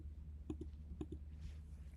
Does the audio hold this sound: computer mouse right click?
yes